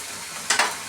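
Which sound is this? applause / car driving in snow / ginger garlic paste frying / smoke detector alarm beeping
ginger garlic paste frying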